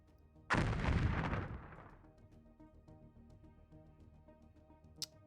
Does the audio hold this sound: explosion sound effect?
yes